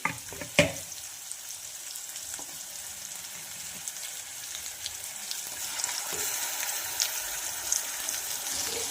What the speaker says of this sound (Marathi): कच्चेपणा पूर्ण जाईपर्यंत आपल्याला ही फ्राय करून घ्यायची आहे